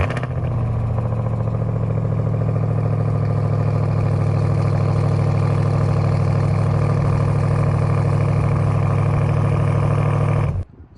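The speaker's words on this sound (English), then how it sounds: "let's hear what this thing sounds like when we crank it up" A Ram TRX truck with a 702-horsepower engine runs at a steady, loud idle rumble, close by and unbroken for about ten seconds before cutting off abruptly.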